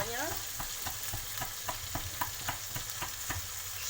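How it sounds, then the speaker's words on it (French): Pork belly frying in a pan, a steady close sizzle with regular stirring or scraping strokes about every quarter second, no talk. "je préfère vous montrer la viande qui est en train de cuire"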